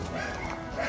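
A small puppy gives a short, faint yip or bark, heard alone over a brief murmur of background noise.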